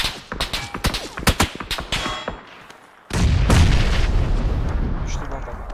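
A grenade blast in a battle royale shooter game: a cluster of sharp gunshot-like cracks, then a sudden heavy booming explosion that rolls on for several seconds, loud and close.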